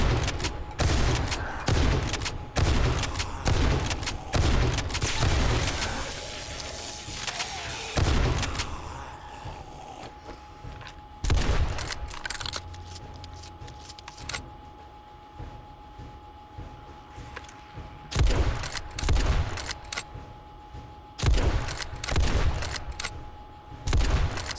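Repeated bursts of gunfire from zombie headshots during a horde night in the survival game 7 Days to Die, loud rapid volleys broken by short pauses over a steady background hum.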